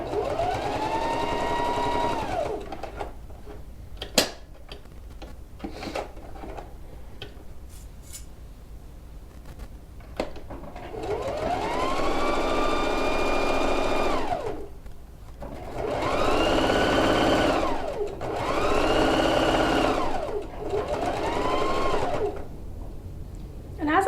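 A sewing machine runs through a quilted coat in several sustained bursts of steady whirring, each lasting a few seconds with short pauses between, close and loud, with brief clicks in the gaps.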